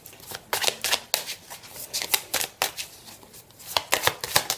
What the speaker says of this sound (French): Je vais prendre les cartes miroirs pour voir ce qui reflète déjà.